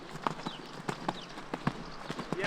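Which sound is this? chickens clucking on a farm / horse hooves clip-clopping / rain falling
horse hooves clip-clopping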